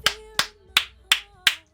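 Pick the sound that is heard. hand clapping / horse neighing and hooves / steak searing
hand clapping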